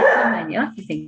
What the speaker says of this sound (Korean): 저희 강아지가 갑자기 나와가지고 짖는 바람에